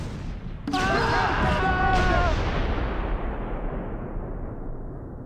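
In the video game Close Combat 3, anti-tank guns fire on a 120mm mortar in front of the Patriarch's Palace in the Kremlin: one loud, sharp blast rolls into a long decaying rumble, with a second hit shortly after and a brief tonal cry.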